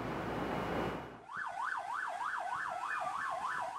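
An ambulance siren wails on the streets of Panama City, rising and falling in steady, even cycles. It is moderately distant and fairly faint, following a burst of broadband street noise.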